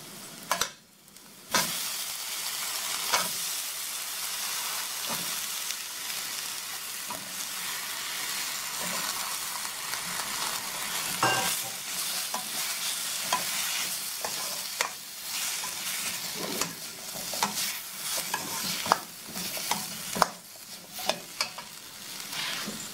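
Ingredients for an egg gravy sizzle steadily in a hot pan while a spoon stirs them in repeated scraping strokes, loud and close throughout with no talking.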